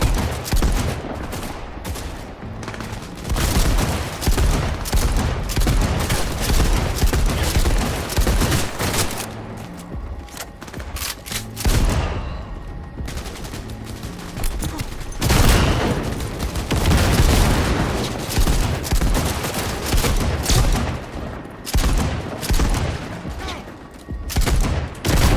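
Sustained heavy gunfire in the video game Cyberpunk 2077, dense overlapping bursts and fusillades with booming impacts, loud and continuous throughout with brief lulls.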